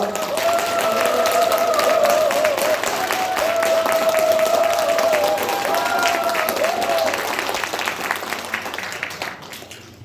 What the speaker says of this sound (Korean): 정태호 국회의원님을 큰 박수로 맞이해 주시기 바랍니다